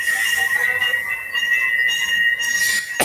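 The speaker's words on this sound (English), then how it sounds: "Where does the train come from?" A train in a Kamen Rider episode gives a steady, loud metallic rumble with a high, sustained wheel squeal ringing through it, near and continuous for a few seconds before ending in a sharp burst, with no talking.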